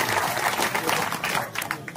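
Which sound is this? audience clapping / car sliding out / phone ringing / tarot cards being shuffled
audience clapping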